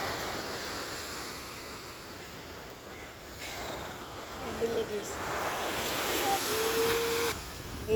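Flowing water makes a soft, continuous rush that swells slightly over time, with a brief voice heard faintly near the end.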